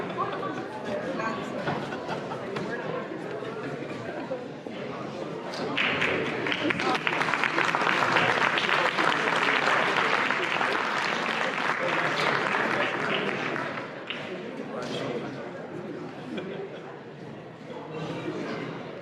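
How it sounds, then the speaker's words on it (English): A crowd at a high school boys' basketball banquet claps continuously, a broad wash of applause that builds louder in the middle and then eases, with voices chattering underneath. "I like clapping."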